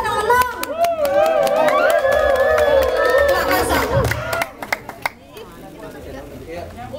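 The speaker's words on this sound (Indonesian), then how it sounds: "Tepuk tangannya dong buat yang menang." Crowd clapping and cheering for prize winners at a neighbourhood Indonesian Independence Day celebration, loud and busy, mixed with chatter and a sustained voice or music for the first four seconds before thinning out.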